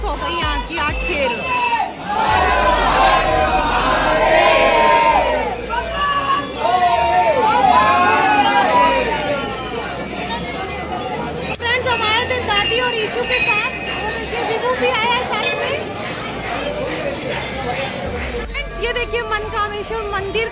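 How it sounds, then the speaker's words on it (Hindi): A dense, noisy crowd fills the Mankameshwar temple during Holi, with constant babble, shouting voices and ringing bells close by and loud throughout. "मनकामेश्वर मंदिर में इतनी ज्यादा भीड़ लगी है"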